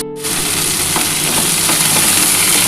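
Vegetables sizzle in a hot pan, a loud continuous crackle and hiss close up, with a few faint clinks as it's stirred.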